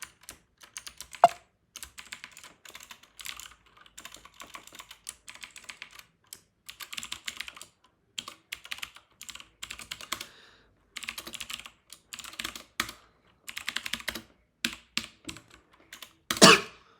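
Someone types code in C on a computer keyboard, producing irregular bursts of close key clicks with short pauses and a louder clatter near the end.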